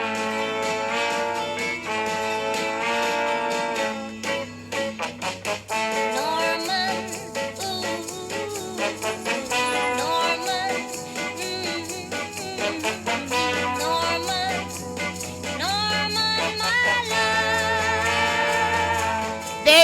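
A song plays steadily throughout, with a tonal melody over a continuous low bass line and no talking.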